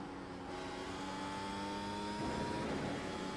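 Formula 1 cars race around Tsukuba Circuit in a video game, their engines giving a steady, faint high-pitched whine that climbs in pitch and then shifts as another car closes in.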